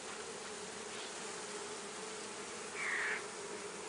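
Honeybees in a top bar hive buzz as a steady, dense hum that grows a little agitated, with one louder, closer buzz passing near the three-second mark.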